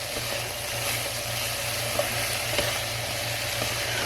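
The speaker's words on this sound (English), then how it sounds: "we got our mushrooms here. Been cooking a little bit." Mushrooms sizzle in a pan with a steady, even frying hiss that holds for the whole stretch, with a faint low hum underneath and a few small pops.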